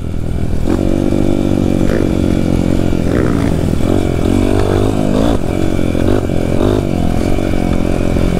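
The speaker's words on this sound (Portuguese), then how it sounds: "A moto pegou reserva." A Honda CRF 250 dirt bike engine runs on a trail, a loud, close, continuous motor drone with rising and falling revs and rattling clatter throughout.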